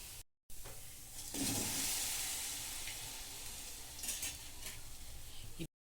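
Semolina gulab jamun sizzle and bubble as they fry in hot oil in a pan, a steady crackling hiss with occasional stirring scrapes, close by and without speech.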